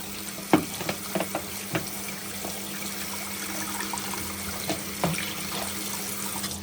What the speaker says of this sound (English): let me apply some cold water in the bottom of the bottle to prevent getting it too hot